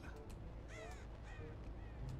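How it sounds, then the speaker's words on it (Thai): Crows caw in the Dead by Daylight video game. Several harsh, fairly faint caws repeat over a low ambient game rumble. "อีกาลั่นครับตรงนี้ มีการลั่นแปลว่าอาจจะมีคนอยู่ข้างล่างครับ"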